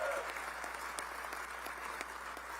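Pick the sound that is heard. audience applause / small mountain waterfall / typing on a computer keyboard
audience applause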